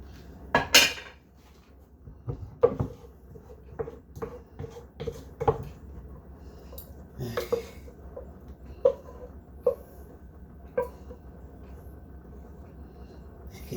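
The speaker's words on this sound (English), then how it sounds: "I have to use a spoon for that." A spoon scrapes and clinks against a metal pot while thick homemade cheese sauce for macaroni and cheese is emptied out, giving a string of irregular, fairly close scraping knocks with quiet pauses between.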